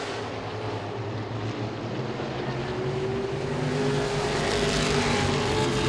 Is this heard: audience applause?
no